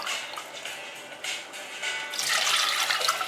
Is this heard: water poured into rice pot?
yes